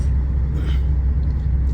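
Low, steady engine rumble of idling cars and trucks stuck in a traffic jam at road works in Czechia, heard from inside a vehicle with no talk.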